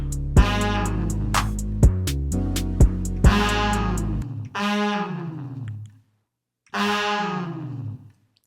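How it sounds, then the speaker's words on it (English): A beat mix built from Reason's stock devices plays with reverb added: sharp percussive hits over sustained harmonic tones, then a few separated synth phrases whose tails fade through the reverb, with a brief silent gap. "let's add some reverb to that."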